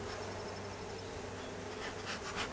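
Honey bees hum steadily in an opened beehive during an inspection as a super is lifted off, a dense close-up drone that swells slightly near the end, with no talk.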